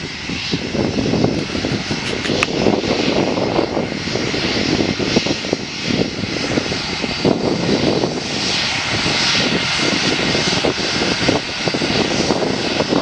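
A British Airways Airbus A320 landing at Manchester Airport, heard as a loud, steady roar of jet engines and rushing air that fills the whole stretch without pause, with no talking.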